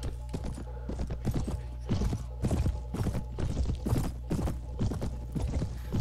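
Horse hooves clip-clopping in the video game Mount and Blade Warband, a steady rapid run of thudding hoofbeats with a low hum beneath, close and continuous throughout.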